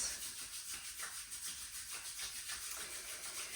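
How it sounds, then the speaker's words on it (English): Hands rubbed briskly together to build heat during a slow yoga class, a steady rhythmic swishing friction repeating throughout, close and continuous. "rub your hands together to create heat"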